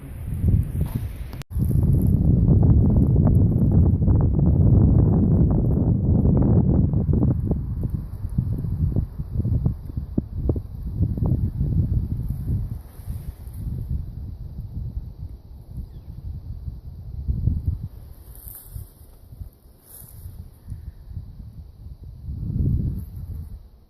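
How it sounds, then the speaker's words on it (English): Strong wind blows outdoors in a dry homestead setting, a loud, continuous rushing and buffeting against the microphone that eases slightly and gusts again, with no talk. "The wind picked up quite a bit"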